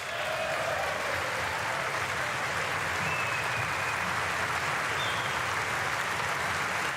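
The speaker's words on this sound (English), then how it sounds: "I'm sensing way more partisan applause versus bipartisan than in most of these speeches" Partisan applause fills the chamber at the 2019 State of the Union address, a dense, sustained roar of many hands clapping at constant loudness with no pauses.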